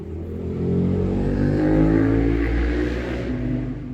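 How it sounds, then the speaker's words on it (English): A loud car passes close by outdoors near a garden, its engine growl swelling to a peak in the middle and then easing off as it moves away. "a loud car passing by"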